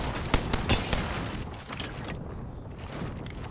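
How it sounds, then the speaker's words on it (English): Video game airstrike with a quick volley of sharp explosive blasts and rumbling booms up front, followed by a lower sustained roar and scattered distant bangs. "Calling the airstrike."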